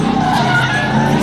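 An old Camaro doing donuts at an underground street-racing meet, a sustained tire squeal with engine drone, loud and close for a brief moment.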